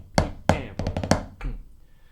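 A drum fill bar from the marching-band solo in the film Drumline: sharp, close strokes, two spaced hits, a quick cluster, then a final hit that rings out.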